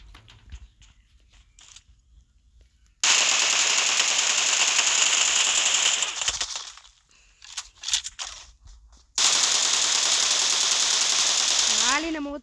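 Weapon gunfire in PUBG Mobile, with two long, loud sustained bursts of rapid automatic fire separated by quieter stretches of scattered shots and game noise.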